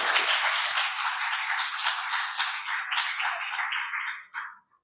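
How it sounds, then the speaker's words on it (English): Audience applauding at an international law faculty seminar, a steady dense wash of clapping that holds for several seconds, then fades and cuts off near the end. "give applause to Dr. Ismail for his coming virtually to this meeting"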